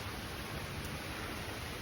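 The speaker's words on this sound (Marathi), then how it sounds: "मस्त एक रिमझिम पाऊस पडतोय" Light drizzle falls outdoors as a soft, even hiss of rain with no distinct drops, steady and unbroken for a moment.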